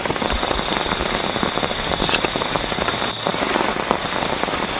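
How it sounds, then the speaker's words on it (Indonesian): Steady hiss of night drizzle pattering on a surface in an open green field, with strong gusty wind noise underneath, continuous and fairly close, no voices. "angin kencang, gerimis"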